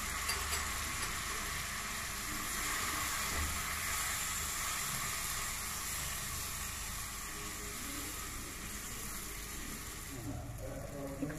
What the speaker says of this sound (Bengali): মাশরুমটা একটু বাটারে সতে করে নিচ্ছি।